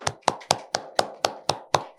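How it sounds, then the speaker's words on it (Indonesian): Eight regular handclaps in a steady rhythm about four per second, close and crisp, from an audience at a campus collaboration seminar welcoming a guest speaker. "Tepuk tangan semuanya."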